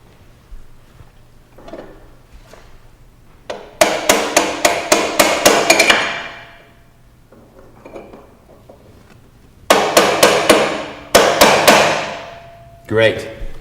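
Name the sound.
tightening motorcycle shock preload lock ring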